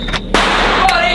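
Firework bombs exploding, a couple of sharp loud bangs with one big blast followed by a crackling, ringing tail, close by and short.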